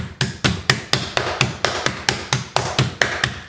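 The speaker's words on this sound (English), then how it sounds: "You're going to pound this down to somewhere between 1/4 and 1/2 inch right in that area." A meat mallet pounds a pork chop thin, about fifteen firm, evenly spaced thuds landing close and loud in steady rhythm, with no talking.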